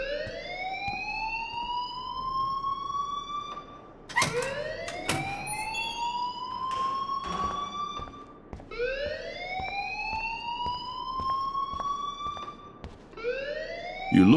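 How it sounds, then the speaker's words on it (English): School alarm ringing in the video game Life is Strange, a loud rising electronic whoop repeating every few seconds, steady and insistent with some clatter in between. "please turn off that alarm since that's your job"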